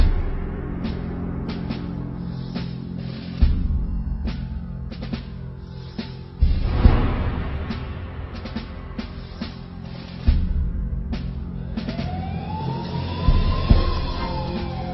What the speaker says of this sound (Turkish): Duyuyor musun? Geliyor ambulanslar.